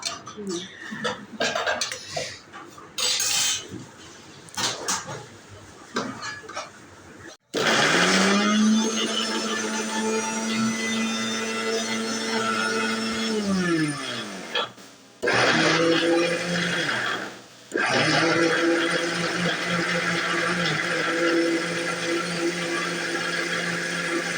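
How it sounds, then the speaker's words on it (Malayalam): A mixer grinder blending pineapple and ginger whirs loudly and steadily for several seconds, stops briefly, then runs again in two more bursts, with talk and kitchen clatter before it. "പൈനാപ്പിളും ഇഞ്ചിയും കൂടെ കൂടിയിട്ട് ഒന്ന് മിക്സിയിലിട്ട് അടിച്ചെടുത്തു"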